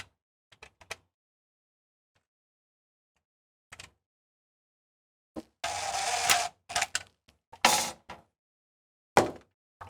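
Screws being fitted into the LED light panel of a Furrion 8 cu.ft refrigerator, with scattered sharp metallic clicks and rattles, then a few short bursts of driving or scraping, close and otherwise quiet.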